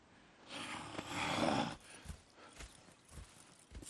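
A horse in the video game Red Dead Redemption 2 gives a long, breathy snort, then a few soft hoof clops and shuffling steps follow nearby at a low level.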